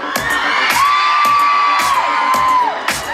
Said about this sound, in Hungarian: az első dolog, amit gyakorolunk, az a sikítás és ordítás